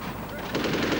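A short rattling burst of machine-gun fire during street fighting in the invasion of Iraq, rising in intensity halfway through with rapid repeated reports, fairly close and harsh.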